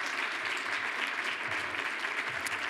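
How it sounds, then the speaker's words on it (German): Steady applause from a conference audience at a community-care event stage on a market square, dense and sustained clapping filling the whole stretch at moderate level. "Mit einem Applaus sagen wir Dankeschön für Ihre Zeit,"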